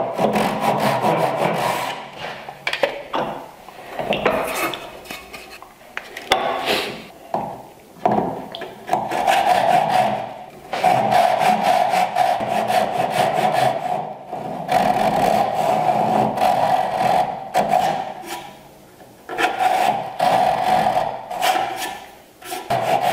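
A hand saw cuts kerfs on both sides of a mortise for a wooden bridle joint, long runs of close, loud, steady rasping strokes broken by short pauses, with no talk.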